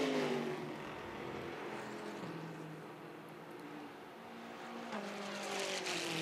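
Race cars, including the number 4 Corvette, circle the track in a 2017 road race qualifying session, their engines a fairly distant, muted drone that rises and falls in pitch as they pass.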